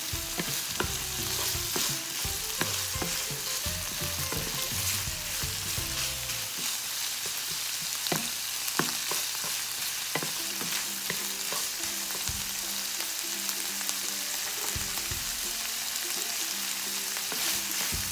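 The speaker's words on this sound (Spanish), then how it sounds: "Lo vamos a dejar por 1 minuto más o menos a que se acitrone la cebolla." Onion frying in a pan with potato and chorizo for tacos, giving a steady bright sizzle with occasional stirring scrapes, close and continuous, with no talking.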